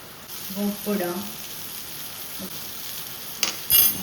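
Tomatoes going into a frying pan while cooking egg rice give a faint, low sizzle and a few soft stirring scrapes, with one brief sharper clatter near the end.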